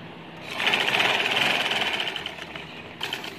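A sewing machine stitches the frilled edge of a fabric envelope pillow cover, with a steady close whirring run of about two and a half seconds that eases off near the end.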